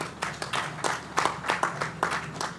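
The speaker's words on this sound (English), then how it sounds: "let's give a round of applause" Applause at an aviation week assembly: scattered, irregular hand claps from a small group, sharp and fairly close, rising and falling over a few seconds.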